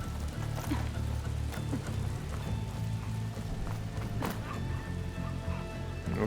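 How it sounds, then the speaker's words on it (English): Rain falling in the video game Horizon Forbidden West, a dense steady patter of drops over a low droning game ambience with occasional sharper ticks, constant and fairly loud. "Starting to rain."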